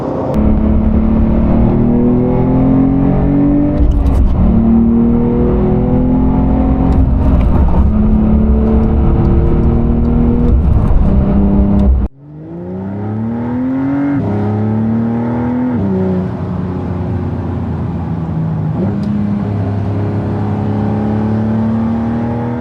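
A 2023 Porsche 911 Carrera T engine pulls hard through the gears, loud and close, with rising whine broken by sharp upshifts, a brief cut near the middle, then another strong climbing surge.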